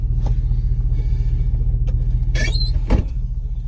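Steady low engine rumble from a firewood truck rolling slowly along a road, with a vibrating drone throughout and a couple of brief rattles and squeaks near the end.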